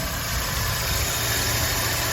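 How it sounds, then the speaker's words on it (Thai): A 1.6 litre engine in a 1995 Toyota Corona idles close by, giving a steady, even rumble with a constant low hum and no change in revs. "เดี๋ยวฟังเสียงเครื่องนะครับ"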